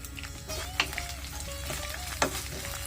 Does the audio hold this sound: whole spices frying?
yes